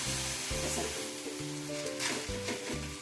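Steady sizzling of a cucumber paratha on a hot griddle runs throughout, with a low humming drone pulsing underneath and faint clinks.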